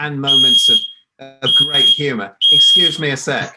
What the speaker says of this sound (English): He's setting off the smoke alarm.